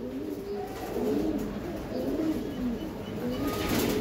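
Racing Giribaz pigeons coo in a repeated, rolling pattern nearby, several soft calls overlapping with steady background hiss and no talking.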